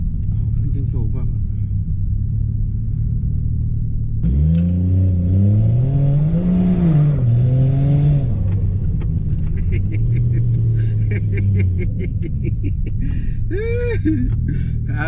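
A Toyota Supra revs hard with a loud, rising engine note that swoops up and down as it accelerates and loses traction, the pitch climbing and wavering over a steady low rumble, while people talk over it.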